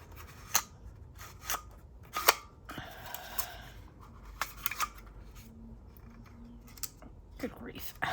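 Scissors snip through folded paper in a crafting session, producing scattered sharp cutting clicks and rustles spread over eight seconds, with a person talking quietly between them.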